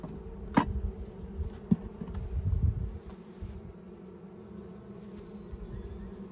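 Honeybees buzz around an opened horizontal hive, a close, low, droning hum with individual bees passing near, louder in the first half and then settling to a softer steady drone.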